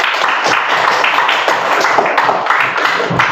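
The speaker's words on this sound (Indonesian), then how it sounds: "kita beri tepuk tangan untuk kelompok 2" Students in a classroom clap for a group of classmates, a loud, close burst of uneven clapping that carries on throughout.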